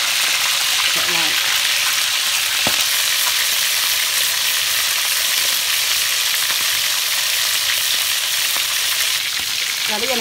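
Tuna fish frying in a pan over a wood-fire stove gives a loud, steady, dense sizzle throughout, with occasional faint clinks and a quiet voice in the background.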